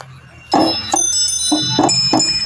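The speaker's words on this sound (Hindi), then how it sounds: "सभी घंटियों की आवाज़ बहुत अच्छी तरह से आ रही।" Brass puja aarti bells struck by a homemade machine in a quick mechanical rhythm, bright ringing strikes repeating closely with sustained metallic tones, near and loud.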